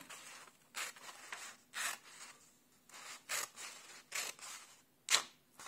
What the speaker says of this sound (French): vous prenez vos ciseaux et vous y allez franco